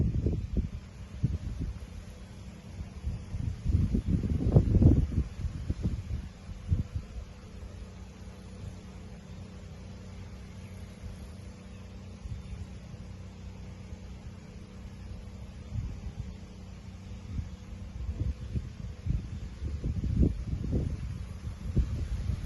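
Wind blowing outdoors during a yoga session, low rumbling gusts buffeting the microphone, strongest near the start and end with a steadier faint hiss between.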